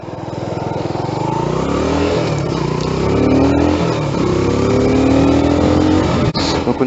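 A fairly low-slung motorcycle revs while riding, its engine note climbing and falling through gear changes, loud and close with steady wind rush, and no talk over it.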